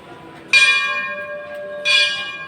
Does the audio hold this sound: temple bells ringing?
yes